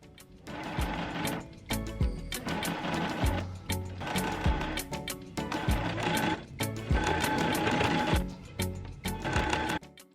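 A sewing machine runs in repeated bursts of rapid stitching along a fabric edge, several runs of a few seconds each with short pauses between them, close and fairly quiet.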